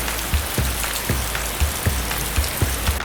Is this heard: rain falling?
yes